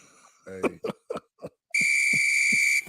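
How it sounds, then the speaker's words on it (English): A referee's whistle blasts in one long, loud, steady shrill tone, following a few short coughs or grunts and with soft rhythmic thuds continuing underneath. "Blow the whistle."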